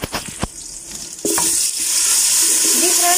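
Onions dropped into hot ghee and oil for dal: a few clinks and taps at first, then a sudden loud burst of bright crackling sizzle that holds steady and close, with no voices.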